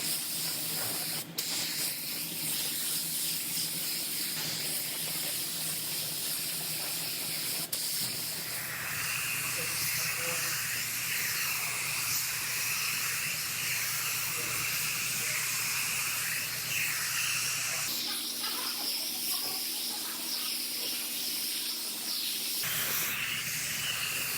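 Spray gun hissing epoxy primer onto the lift gate of a Toyota RAV4, a continuous close airy spray with brief pauses and changes in pressure as passes start and stop.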